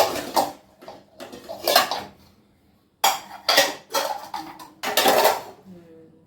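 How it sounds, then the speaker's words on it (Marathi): Dishes and steel utensils are stacked and put away in a home kitchen, bursts of loud clanking and clattering with short pauses between, close by. "भांडी लावते ममता."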